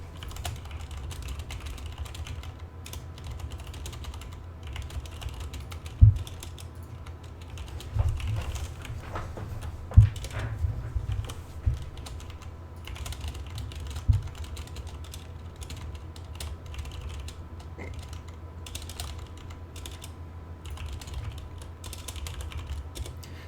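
Steady typing of code on a computer keyboard, with a continuous patter of key presses at close range and a few louder isolated clacks, no voices.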